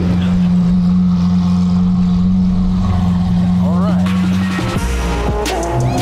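A loud engine drones steadily from inside a moving car, a low rumble that shifts in pitch near the end as it changes speed.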